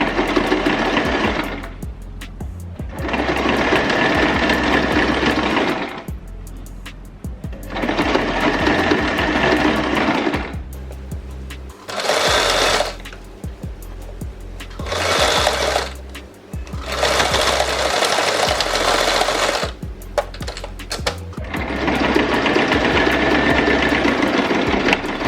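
Sewing machine stitching a wig cap, running in long steady bursts of rapid mechanical whirring with short pauses between runs, close and loud, with no talk.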